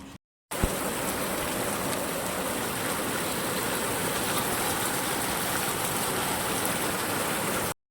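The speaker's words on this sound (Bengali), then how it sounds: "বৃষ্টি মুসুলধারে বৃষ্টি হচ্ছে" Heavy torrential rain pours down steadily outside a shop during a monsoon-style downpour, a dense, loud, continuous hiss after a brief silent gap at the start, with no talking.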